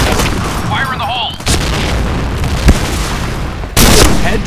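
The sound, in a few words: grenade explosion in a video game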